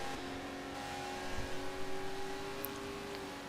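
A race car engine in a sim racing game, a moderate, steady hum with a mid-pitched tone holding through the straight and a brief rise near the middle, with no voices over it.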